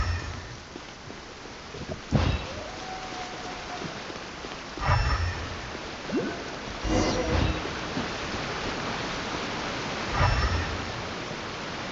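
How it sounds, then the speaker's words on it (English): Steady rain with occasional thunder rumbles in the video game Genshin Impact, a constant hiss filling the background throughout, with soft low booms recurring every few seconds. "If this rain keeps up, my fur will be dripping wet."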